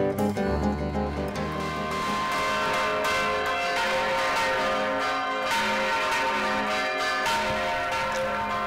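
Church bells ringing continuously and loudly, with overlapping peals and sustained ringing tones that fill the whole stretch without pause.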